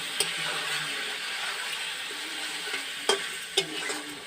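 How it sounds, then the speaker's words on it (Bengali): Chicken frying in a pan for a milk korma gives a steady close sizzle, with stirring and a few sharp clinks of a utensil against the pan. "এবার আমি ভাজতে যাব।"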